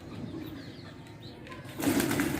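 A pigeon is grabbed by hand during rooftop pigeon keeping, with a burst of wing flapping and scuffling near the end after a quieter stretch of faint outdoor background noise.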